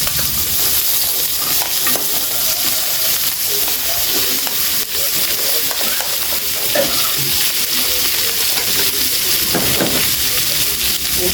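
Onions frying in a pan for a family Christmas party meal, with a steady close sizzle and crackle throughout and occasional stirring scrapes.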